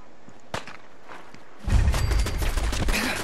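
Gunfire in the video game Fallout 4, a sparse thump or two followed by a dense, loud burst of rapid shots and impacts that continues to the end, with no talking.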